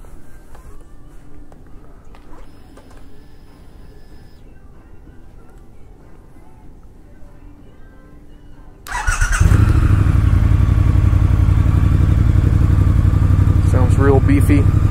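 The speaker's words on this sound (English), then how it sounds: "we're going to start the bike up" A 2019 Triumph Speed Twin motorcycle starts after a quiet stretch of faint background noise, its twin-cylinder engine catching abruptly near the middle and then settling into a loud, steady, close idle that runs to the end.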